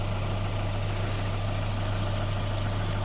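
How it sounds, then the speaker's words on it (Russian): A new engine in a car or truck idling on a snowy road trip, a steady low drone with a strong constant hum, close and continuous, no voices. "Новый движок"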